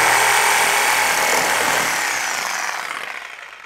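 A Sawzall reciprocating saw rips through material in a loud, dense, continuous buzzing cut that stays steady, then gradually tapers off near the end, with no talking.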